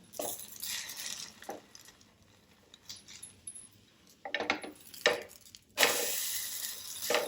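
An eggless banana pancake sweetened with jaggery is flipped in a pan over a gas flame, giving scraping, clinking utensil sounds in scattered bursts, with a louder clatter near the end and a faint sizzle underneath.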